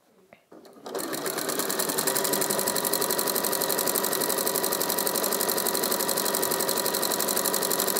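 A small domestic sewing machine stitches a quilt block for a lap quilt, starting after a brief pause and then running steadily with a fast rhythmic mechanical chatter, close and loud.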